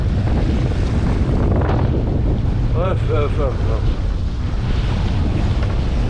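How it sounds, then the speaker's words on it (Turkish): Strong wind roaring across the microphone at sea with waves and water noise; a voice briefly makes short puffing sounds midway. "Görüyor musunuz rüzgarı bak."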